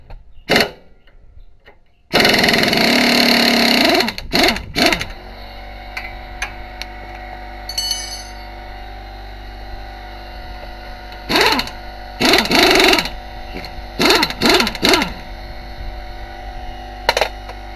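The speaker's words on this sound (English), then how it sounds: "Air compressor to kick on again." An air compressor kicks on in a home garage during a Ford Explorer rear knuckle job, a loud steady motor hum starting abruptly and running on, joined later by a few short bursts of clanking tool noise.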